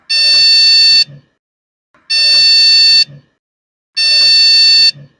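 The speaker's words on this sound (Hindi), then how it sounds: "Oh no, still getting the beep sound." A PC motherboard with faulty RAM sounds its error beep: three loud, identical long shrill tones, each about a second, repeating at regular two-second intervals with silence between.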